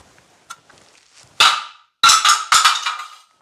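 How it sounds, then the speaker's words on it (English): A plastic dowel jig dropped from a workbench onto the floor, giving a sharp hard clack followed by a pair of loud rattling impacts and bounces, close and alone. "I'm sure it will survive every drop from your workbench."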